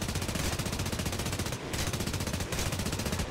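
Continuous rapid machine-gun fire from an I-153 biplane's 7.62 mm guns in the War Thunder video game, a loud dense rattle with two brief pauses, no voices.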